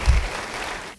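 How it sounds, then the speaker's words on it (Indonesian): A short burst of church audience applause, many hands clapping together, loudest at the start and then quickly fading out. "Yang mau beri tepuk tangan yang baik."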